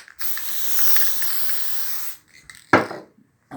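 An aerosol can of artificial snow spray squirts in a steady hiss for about two seconds, followed by a few short sputtering bursts and a rattling shake, close up.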